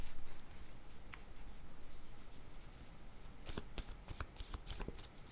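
A deck of cards shuffled by hand before a card is drawn, a soft steady rustle that breaks into a quick run of crisp riffling flicks toward the end.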